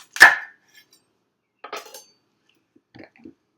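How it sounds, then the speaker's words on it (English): A kitchen knife cuts the greens off beets on a board, giving three separate close knocks in a quiet room: a sharp loud first chop, then two softer ones. "we're going to start by chopping off"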